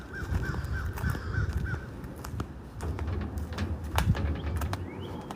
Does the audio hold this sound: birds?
yes